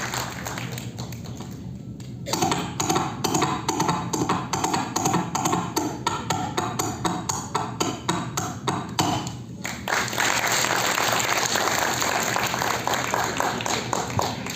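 A studio room full of people claps at a Foley effects demonstration, giving fairly loud, close, dense applause with a short dip partway through before it swells again, mixed with tapping hits.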